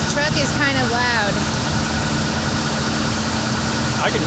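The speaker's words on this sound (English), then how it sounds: "This truck is kind of loud." Outdoors a truck idles close by, its steady loud rumble running unbroken, while a person speaks briefly over the engine near the start.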